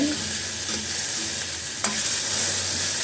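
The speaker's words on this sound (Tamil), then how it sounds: "இப்போ நல்லா வதக்கிடலாம்" Okra sautés in a hot pan with a constant loud sizzle and frying hiss, close up, broken by a scrape of stirring partway through and no talk.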